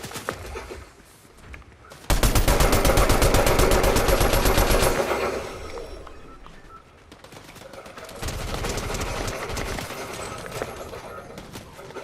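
Dense bursts of rapid automatic gunfire from a Fortnite match, loud and close, come in two long volleys separated by a quieter gap, with scattered lighter shots and game noise in between.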